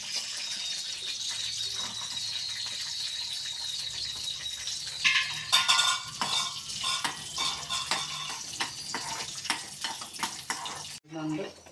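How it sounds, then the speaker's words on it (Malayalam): Cashews dropped into hot ghee in a pan while making pradhaman, breaking from a low steady hiss into a busy close-up crackling sizzle halfway through, with faint clinks. "നെയ്യ് ചൂടായിട്ടുണ്ട്. അതിലേക്ക് അണ്ടിപ്പരിപ്പ് ഇട്ട് കൊടുക്കാം."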